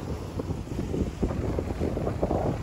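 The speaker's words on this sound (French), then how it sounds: "Il y a tellement de vent" Strong wind blows on a rocky beach, buffeting the microphone in a steady, loud roar with gusty surges throughout.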